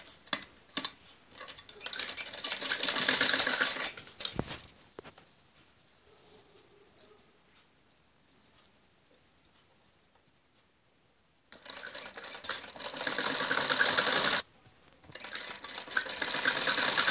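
A sewing machine stitches along the edge of a kurti collar, running in two loud, busy bursts separated by a quiet pause, with a steady high whine throughout.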